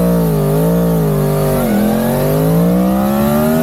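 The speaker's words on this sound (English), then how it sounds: "There's some pretty rigorous 0 to 60 testing on an MT-10" A Yamaha MT-10 1000cc naked motorcycle screams through a 0 to 60 run, its loud engine note dipping at a gear change and then climbing steadily again, close-up and dominant the whole time.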